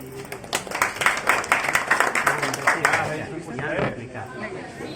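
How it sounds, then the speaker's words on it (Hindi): Women at an inauguration of centres by a Jeevika women's federation in Patori block clap in a lively, uneven burst of nearby applause, with chatter and talking mixed in throughout. "ताली बजाइए।"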